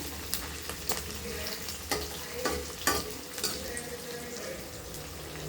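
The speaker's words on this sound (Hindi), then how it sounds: "फिर हम इस अंदर अपना काजू डालेंगे। 2 मिनट भूनेंगे इसको।" Cashews roasting in a pan with browned onion: soft sizzling with light, irregular stirring clicks and scrapes, fairly quiet, and no one speaking.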